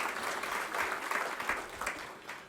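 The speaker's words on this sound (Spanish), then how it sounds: "Para todos, un aplauso." An audience at a Rotary Club gathering in Buenos Aires applauds, brisk continuous clapping filling the room at a moderate level.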